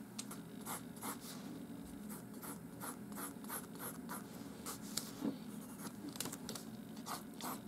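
A pencil scratches across a sheet of paper while drawing a square, quick repeated strokes with short pauses between them, close and soft, with no voices.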